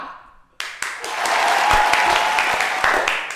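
Audience applause bursts in after a brief quiet stretch on an Indonesian talk show set, building into steady clapping with a few sharp individual claps standing out, fairly close and loud.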